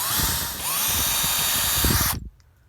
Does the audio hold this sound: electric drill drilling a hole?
yes